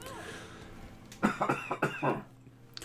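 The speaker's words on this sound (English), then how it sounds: "Excuse me if you just heard the cough of half death right there." A few rough coughs in a quick burst, close and fairly loud, following a quieter stretch of background sound from the video game The Gunk.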